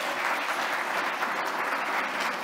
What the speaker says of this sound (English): Can we get another big round of applause for Blair and Dawn?